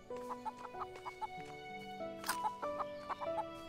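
Chickens in the farming game Everdream Valley cluck in short rhythmic bursts over soft tonal game music, several clucks close together and clear.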